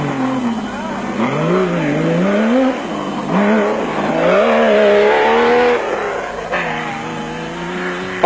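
Off-road race cars, among them a Toyota Land Cruiser, roaring close by with repeated rising and falling engine revs, loud and continuous, with a commentator's voice over them.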